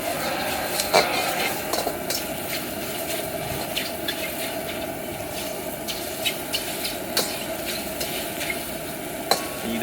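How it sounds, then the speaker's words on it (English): Beef chow fun noodles stir-fried outdoors, with steady sizzling and repeated scraping and tossing clatters of the pan throughout. "You don't want to break up the noodles too much, so it's all about the tossing and less stirring here."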